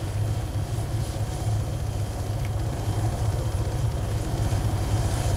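Helicopter in the video game Arma 3, a steady, close rotor-and-engine drone with a low pulsing beat that stays constant throughout, no talk.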